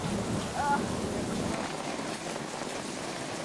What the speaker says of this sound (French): Sur le nouveau continent près d'Hawaï, il pleut pendant 1 mois